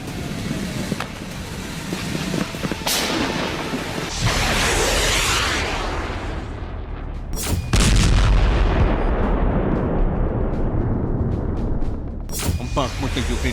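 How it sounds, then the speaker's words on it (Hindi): A Ukrainian tank in battle in Bakhmut, with heavy booming cannon fire and gunshots over a constant roar of engine and combat noise, loud and dense throughout, with a few sharp blasts standing out. "यूक्रेन का यह टैंक जंग के बीचों बीच न सिर्फ तेजी से दौड़ा, बल्कि दुश्मन पर भीषण हमला करते हुए आगे बढ़ा।"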